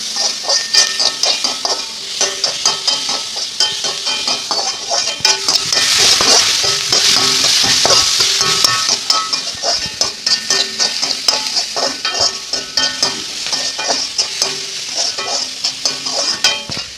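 Onion, green chili, ginger and garlic are sautéed in a pan for vegetable lollipops. A loud, continuous sizzle runs throughout, with frequent spoon scrapes and taps against the pan and no talking.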